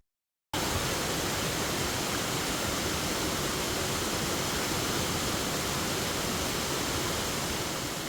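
After a short silent start, a small-town waterfall and river rush steadily, a dense, even roar of falling and flowing water that stays loud and unbroken with no voices.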